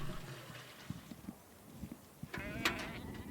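A flock of about 250 sheep in a windswept pasture gives faint, scattered bleats amid soft shuffling and hoof knocks. Near the end, one louder, sharper call rises out of the quiet.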